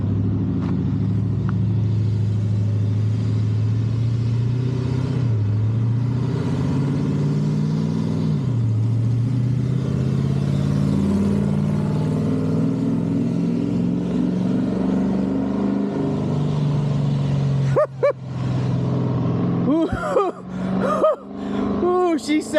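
A 392 cubic-inch 6.4 Hemi V8 on a dyno runs a loud, steady drone with rising and falling revs as pulls are made, then ends in choppy bursts near the finish. Speech is mixed in.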